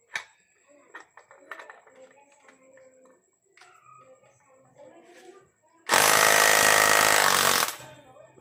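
A loud power tool whirs in one sustained burst of about two seconds while working on a Honda Beat scooter's torque drive, following quieter workshop clatter and someone talking.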